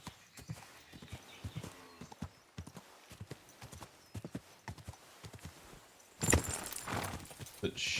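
A horse clip-clops off-road in a video game with irregular, close hoof thuds and scuffs, and a louder rustling burst near the end.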